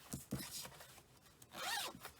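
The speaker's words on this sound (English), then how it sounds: "sorry if you have headphones on and those zippers are annoying" A bag zipper is opened and closed in a few quick rasping pulls, close and fairly loud, with short gaps between strokes and no talking.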